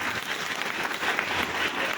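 A crowd applauds steadily, a dense wash of clapping that holds at an even level throughout.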